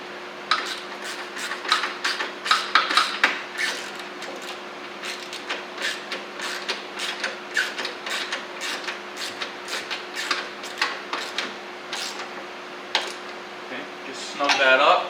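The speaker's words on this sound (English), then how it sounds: "we're going to take our ratchet with our 12mm socket, and we're going to tighten that down" Ratchet with a 12mm socket tightening a hood support strut bolt on a 2018-2023 Toyota Camry, a run of quick close clicks and metallic taps over a faint steady hum.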